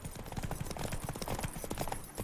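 Hooves of Geralt's horse Roach galloping in the video game The Witcher 3, a steady rapid clip-clop rhythm, moderately loud and close, running continuously throughout.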